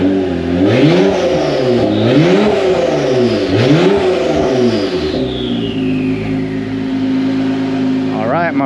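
An Acura NSX engine in track mode is revved repeatedly, loud and close, its pitch rising and falling in several sharp blips before settling into a steady idle.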